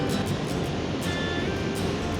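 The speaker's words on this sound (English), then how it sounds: "Especially little waterfalls like that." Water tumbling over a small waterfall on the River Avon at Stratford, a steady broadband rush holding at an even level throughout with no voices.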